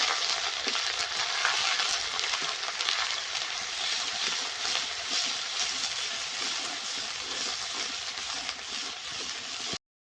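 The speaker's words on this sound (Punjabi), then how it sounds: "ਅਦਰਕ ਲਸਣ ਦਾ ਪੇਸਟ ਇਹਨੂੰ ਆਪਾਂ ਚੰਗੀ ਤਰ੍ਹਾਂ ਭੁੰਨ ਲੈਂਦੇ" Ginger garlic paste fries in a pan for a ginger garlic curry, making a loud, steady sizzle close up throughout that cuts off abruptly at the end, with no talking.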